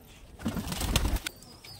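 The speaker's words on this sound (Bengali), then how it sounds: "অনেক বিগ সাইজের পায়রা, লং সাইজের পায়রা আছে" Large, long-bodied high-flying pigeons coo softly in a brief burst, with a rustle that may be wings, fairly close and otherwise quiet.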